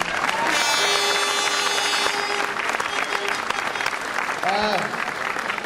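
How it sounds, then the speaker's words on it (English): A crowd at a 2011 senior football championship final celebration against Dromore gives a loud, dense round of applause, with clapping and a few cheers that taper slightly toward the end. "Round of applause for them 5 men."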